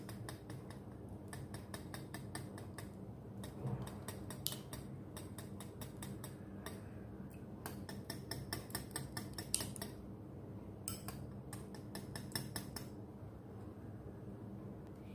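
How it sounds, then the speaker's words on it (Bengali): A beaten egg being stirred into homemade donut batter in a bowl, a quick run of light clicking and tapping strokes against the bowl, close and fairly soft, with brief pauses between bursts and no talk. "এটাকে একটু নেড়ে নিচ্ছি"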